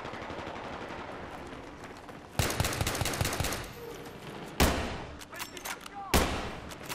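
Rapid-firing sniper rifle shots in a Battlefield 3 match, with sharp loud bursts cutting through steady background battle noise, a cluster of quick shots followed by two more isolated cracks.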